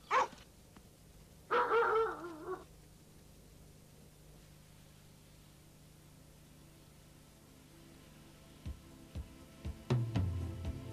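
Feral dogs in the Sirente mountains barking in a frenzy near livestock: sharp barks and yelps in short bursts at the start, then scattered barks and a louder flurry at the end, over low steady background noise.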